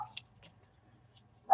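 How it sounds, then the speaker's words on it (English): Dogs bark in short bursts, one sharp bark at the start and another louder one at the end, with quiet in between and a faint low hum underneath. "the dogs are going crazy"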